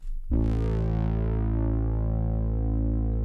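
A synth bass with heavy drive and chorus enters after a brief quiet moment and holds one thick, buzzy, sustained note loudly for the rest of the clip.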